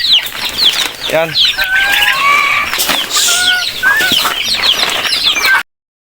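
Chickens at feeding time on a farm cluck, squawk and flap their wings close by, a busy overlapping flock with sharp calls throughout, while a person speaks briefly among them before the sound cuts off.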